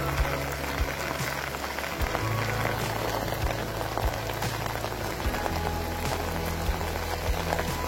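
Rain falls steadily on a tent at a mountain hiking camp near Gunung Arjuno, a dense, continuous patter with scattered louder drops and a low hum underneath.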